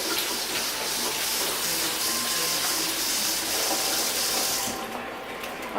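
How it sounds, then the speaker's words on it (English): Tap water runs steadily into a sink as the top of an evaporated milk can is rinsed beneath it, a close, continuous splashing hiss that eases off near the end. "I'm gonna wash the top off real quick."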